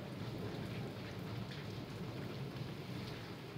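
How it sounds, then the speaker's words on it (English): Steady rain falls in the background on a very rainy day, an even hiss with low rumbling, constant and uninterrupted. "Today is very rainy day, that's why the background sound is very luxurious."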